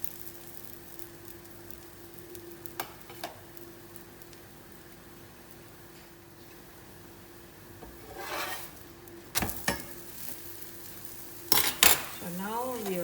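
Ghee sizzles on an aloo paratha in a pan, a faint steady hiss with occasional metal spatula scrapes and clinks building toward the end, with no talking.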